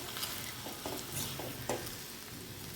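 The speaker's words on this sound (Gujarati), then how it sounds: "તો અહીંયા પલાળેલા પૌવા લઈએ અને સારી રીતે બધું મિક્સ કરી દઈએ" Soaked poha being stirred into fried potatoes in a pan, soft scraping strokes of a spoon over a faint steady sizzle, close and quiet with no voices.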